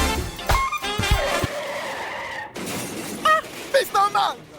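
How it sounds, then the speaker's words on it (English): A car crash in a radio advert, with loud skidding tyres and shattering glass at the start, followed by short sharp impact and tinkling debris sounds; a voice speaks over the noise. "Oh, see what you have done now! You have damaged my car!"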